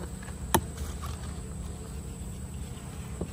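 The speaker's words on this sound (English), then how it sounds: "Got more bees than you know about." Bees hum softly in the background, a faint continuous buzz with a couple of brief clicks, outdoors and without talk.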